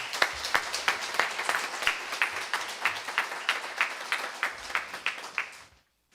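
Audience applause at a Black Consciousness Week ceremony held by Rio de Janeiro's municipal education office, a steady patter of hand claps over about six seconds that fades out at the end.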